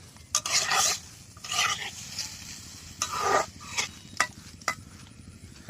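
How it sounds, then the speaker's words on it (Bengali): Potatoes being stirred with spices in a pan on a village stove, repeated bursts of scraping and rustling stir strokes over a soft sizzle, close and uneven in rhythm. "আলুটাই মশলার সাথে সুন্দর মতো নাড়াচাড়া করে দিচ্ছি।"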